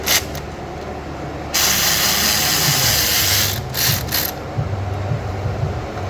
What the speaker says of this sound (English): See, and already you hear that bracket loosening up right there.